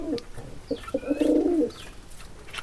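A male pigeon kept in a home loft gives a soft rolling coo of about a second, quiet and alone against a faint background.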